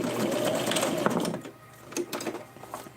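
A sewing machine stitching Velcro onto a doll outfit, its needle rattling in a quick, steady mechanical run that eases into a lighter, more intermittent whir as the seam ends.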